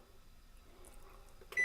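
A kitchen timer being set for clay pot cooking gives soft faint clicks followed by a single short bright beep at the end.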